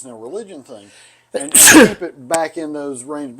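A man's loud, sharp sneeze bursts out in the middle of relaxed conversation, with speech just before and after it.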